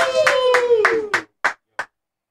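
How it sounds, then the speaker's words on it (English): A small studio audience gives a brief round of clapping for a band before an intimate stage performance, starting as a quick cluster of claps and thinning to a few separate, fading claps. "let's give them a round of applause"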